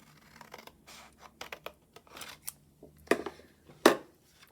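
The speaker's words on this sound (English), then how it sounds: "I can take my scissors and cut right on that line" Scissors snipping through paper along a drawn line in a handful of separate, crisp cuts with short pauses between, quiet and close, no talking.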